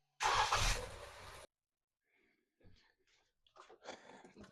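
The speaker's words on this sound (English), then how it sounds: "let's go ahead and start up the car" A 2024 Toyota Camry engine cranks and catches in a loud burst of about a second, then falls silent, followed by faint clicks and handling noises.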